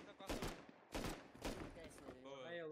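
Gunfire in the survival video game Rust arrives as three broadband bursts of shots spaced about half a second apart, moderately loud, followed by quieter tonal sounds, with no one speaking.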